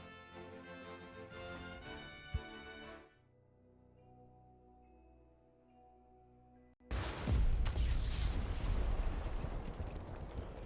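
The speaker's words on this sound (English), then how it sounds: "Dragan, meanwhile, presides over the blasting of a new tunnel at the Grand Norzelian" A sudden, massive tunnel-blasting explosion in the video game Triangle Strategy bursts in after a quieter stretch of game music, followed by a loud, sustained roar of rumbling debris.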